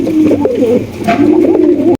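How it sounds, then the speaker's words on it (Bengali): Close, soft cooing of satin pigeons, a continuous low throaty warble with a brief break in the middle, ending abruptly. "চমৎকার এক জোড়া ফর্ম শার্টিন কবুতর"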